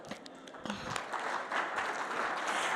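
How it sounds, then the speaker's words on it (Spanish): Audience clapping at an awards and recognition event, faint and distant at first, then building into a fuller, steady round of applause. "Quiero pedir un fuerte aplauso para ustedes"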